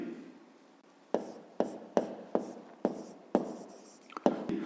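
Pen strokes on notebook paper during a fifth-grade maths exercise: after a quiet start, a series of short, crisp scratching strokes arrives at an uneven rhythm, close and moderately loud.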